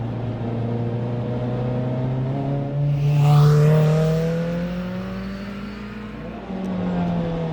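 A Toyota MR2 with a 2ZZ engine, heard from inside, holds a loud, steady engine drone that rises in pitch as the car accelerates, then drops briefly at a gear change and builds again.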